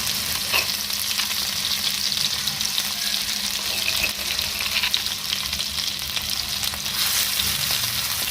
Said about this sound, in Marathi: तेलावर थोडासा परतून घेऊया